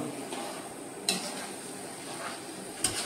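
Pav bhaji masala being stir-fried in a pan: a steady soft sizzle with faint scraping from stirring, plus two brief sharper clinks of a spoon against the metal, close and fairly quiet throughout.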